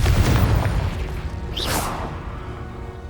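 Confringo explosive spell cast in the Hogwarts Legacy video game: a deep rumbling boom fading out, with a bright rising whoosh streaking through the middle, loud and without voices.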